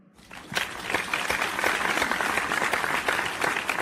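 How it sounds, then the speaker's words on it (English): A studio audience at a quiz show applauds a winner, clapping swelling in quickly after a soft start and holding steady, fairly close and full, with no talk on top. "Give a round of applause to Alex, everybody."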